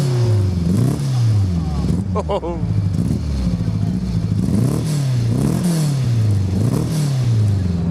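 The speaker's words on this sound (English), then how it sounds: "We're just going to fire this car up and see if it starts now" A race car at the Equipe Summer Classic at Silverstone fires up and revs, its engine repeatedly rising and falling in pitch with a sharp clattering burst near the middle, loud and close, while a commentator speaks briefly.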